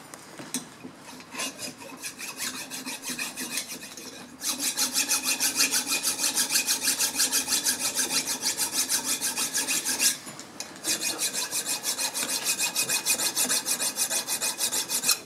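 A metal file rasps across the cast body of a #5 hand plane, smoothing where the frog seats, in steady, loud, rhythmic strokes that speed up after a short pause and continue close up.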